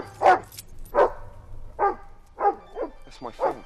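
A dog gives a string of about seven sharp barks and yips at a steady pace outdoors, close and fairly loud, with a low hum underneath.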